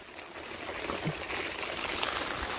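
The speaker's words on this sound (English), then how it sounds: "Now the water's routing to the front." Rainwater rushes and trickles through a yard drainage system toward distribution boxes, a continuous close wash of flowing water with faint gurgles and no talk.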